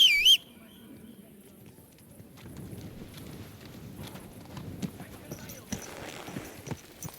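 Horse hooves clip-clopping in the medieval role-playing game Kingdom Come: Deliverance 2, a quiet irregular patter of steps at walking pace with faint birds and a brief whistle at the start.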